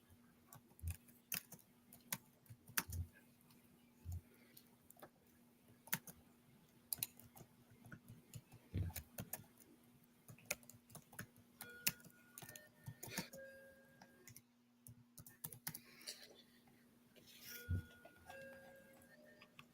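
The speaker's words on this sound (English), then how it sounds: "no, that's a clock. It's a clock." A clock ticks in a quiet room, faint and regular, with scattered clicks and small knocks over a low steady hum, no voices.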